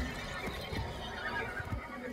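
A horse in the video game Warframe gives a muffled neigh and snorts over a busy game soundscape, brief and not very loud.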